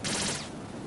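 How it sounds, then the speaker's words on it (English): In Metal Gear Solid 2, a gun fires automatically in one short, sharp burst of rapid shots that is over in under a second. "How do you not fire the gun automatically?"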